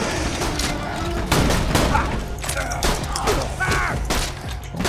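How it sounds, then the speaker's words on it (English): Gunfire in the shooter video game Borderlands 2, bursts of rapid shots and booms layered with game effects and voices talking over the action. "Don't be shooting me with that little pea shooter."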